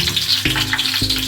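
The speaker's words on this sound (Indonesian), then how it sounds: "daun kunyit, daun salam, dan daun jeruknya. Kita tumis sampai harum." Turmeric leaves, bay leaves and lime leaves sautéing in hot oil, a close, bubbling sizzle with a couple of sharp bursts as the pan is moved.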